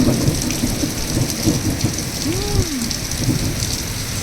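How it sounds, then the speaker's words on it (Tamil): Heavy rain pours steadily with rumbling thunder rolling underneath, a dense, loud wash of sound close by, with no one talking. "நம்ம நினச்ச மாதிரியே மழை வந்துருச்சு"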